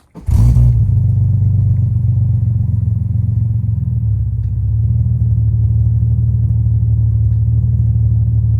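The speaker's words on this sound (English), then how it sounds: "I might just need to start the car, so I'm going to start it and turn both on" A Ford Falcon E series engine cranks briefly, then catches and settles into a steady, loud, close idle with a low rumble that holds for several seconds, no voices over it.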